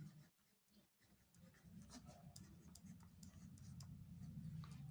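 Pen scratching out a math solution on paper, with steady continuous writing strokes close by, quiet and free of talk.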